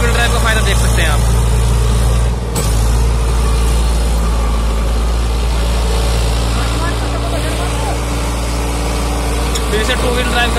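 Eicher 557 4WD tractor engine running in four-wheel drive, a loud, close, steady low diesel drone with a brief dip, while someone talks over it.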